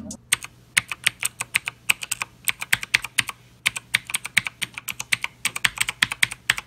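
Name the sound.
mechanical keyboard typing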